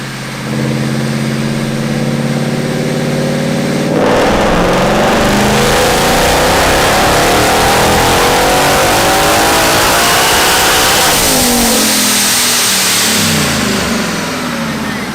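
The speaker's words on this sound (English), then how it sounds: "we ended up doing 2 hits on the dyno." A car engine on a dyno idles with a steady rumble, then revs hard and climbs through the gears at full throttle, loud and close, before backing off again.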